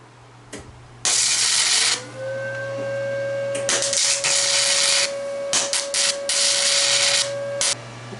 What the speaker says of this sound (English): I am using flux core on this.